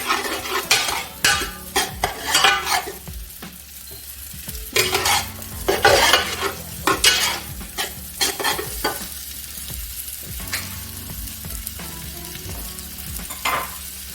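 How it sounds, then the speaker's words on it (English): Onions frying in oil in a pot while being stirred, with bursts of utensil scraping and clatter against the pan over a steady low sizzle, the stirring coming in irregular clusters. "So I'm going to add in my onions to fry my oil, and I'll stir it a bit."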